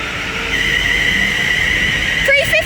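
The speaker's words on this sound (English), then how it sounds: "the 13:48 London Northwestern Railway service from London Euston to Milton Keynes Central is now departing" A London Northwestern Railway train, the London Euston to Milton Keynes Central service, pulls out of Bletchley station with a steady high-pitched wheel or motor whine, rising rumble and brief metallic squeals near the end.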